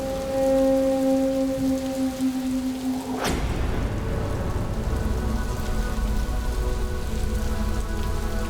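Steady rain pours down, loud and close, with a dense broadband hiss that swells suddenly after about three seconds and keeps falling without pause; no voices are heard.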